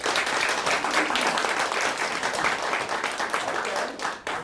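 An audience at a live comedy stage show in Charlottesville claps and cheers loudly to vote for the Reverend, a thick wash of applause that swells and then tapers off near the end.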